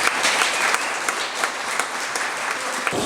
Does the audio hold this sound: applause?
yes